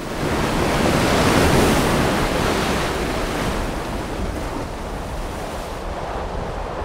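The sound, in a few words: waves surging through basalt tunnel blowhole, Tahiti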